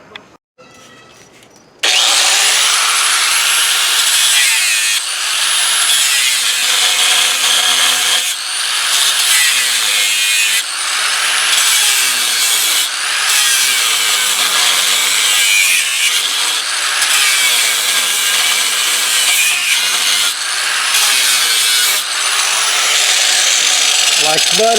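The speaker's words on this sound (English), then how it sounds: "cut them both off, flatten everything out with the grinder" An angle grinder cuts metal off a 1979 Chevy K20 truck, a loud, steady, harsh whine that starts abruptly after a quiet moment and runs continuously with slight dips in pitch.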